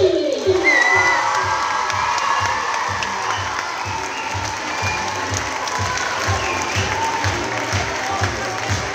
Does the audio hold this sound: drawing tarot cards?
no